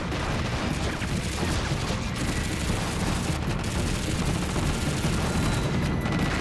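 Dense, continuous battlefield gunfire from enemy positions in a war film set in the anti-Japanese war, loud rattling volleys and shots blending into a steady roar with no pauses.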